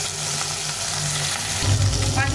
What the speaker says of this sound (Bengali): মাছটা সরষের তেলে ভেজে নেব।